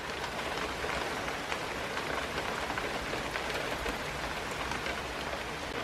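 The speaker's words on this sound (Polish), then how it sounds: "No trochę ten deszcz przejdzie" Rain falls steadily outdoors, a constant, even hiss of drops on surfaces that stays at one level throughout, with no voices.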